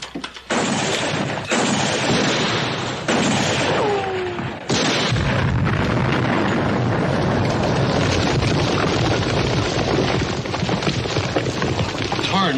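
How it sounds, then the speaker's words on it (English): A dynamite blast in a western TV series erupts loudly after a brief quiet, then rumbles on as a sustained heavy roar with debris-like crackle filling the rest of the scene. "Tarnation was that? Dynamite."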